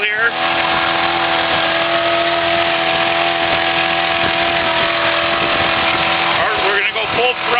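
An 18-foot pontoon boat's engine runs a little above idle, a steady, loud, unbroken motor drone with a brief dip near the end.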